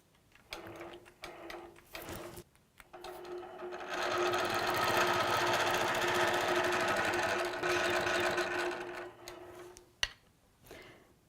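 Longarm quilting machine stitching a quick secure on a quilt border, with a few short bursts of stitching, then a sustained rapid mechanical whir lasting several seconds, then more brief stitches, with no voice over it.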